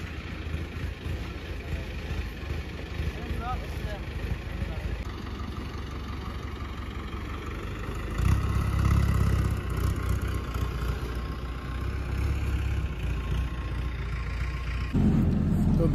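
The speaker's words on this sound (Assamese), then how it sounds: "আহি গ'ল আমাৰ মাৰাণ মাৰা ট্ৰেক্টৰ।" A tractor engine idles early in the morning at about six o'clock in a field, a steady low rumble that holds throughout and swells louder around the middle and again near the end.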